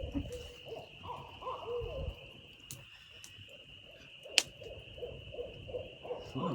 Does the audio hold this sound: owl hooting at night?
yes